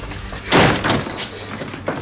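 A door slams hard with a loud broadband thud about half a second in, followed by further banging and rattling against the wood, and another knock near the end, with no talking.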